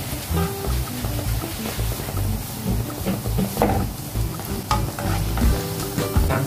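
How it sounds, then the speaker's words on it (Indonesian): Steady crackling and bubbling of batter frying in hot oil, with scattered pops and stirring clatter, fairly loud and close throughout. "Lalu goreng semua adonan sampai habis."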